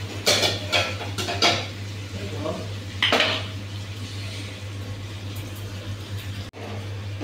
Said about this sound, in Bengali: এখন আমি লাড়া দিয়ে ঢাকনা দিয়ে দেব